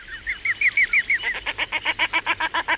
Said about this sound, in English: Does that rather comical laughing call of the duck appeal to your sense of humour?